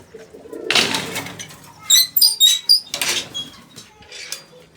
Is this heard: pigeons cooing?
yes